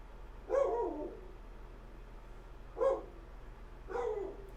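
Three muffled barks from a dog some distance away, widely spaced over a low steady hum.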